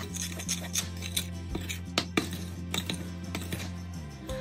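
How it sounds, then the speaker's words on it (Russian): Sifted cocoa and baking powder being stirred in a bowl: close, irregular scraping and tapping of a utensil against the bowl over a low steady hum, without talking. "И все перемешаем."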